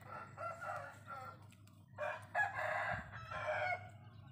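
A rooster crows nearby in two drawn-out calls separated by a short pause, with some soft clucking and low background hum beneath.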